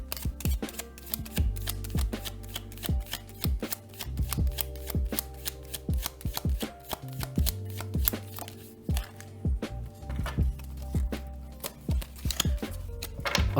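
Tarot cards being shuffled by hand in a steady run of crisp riffles and slaps, close and fairly quiet, with soft low background hum and no talking.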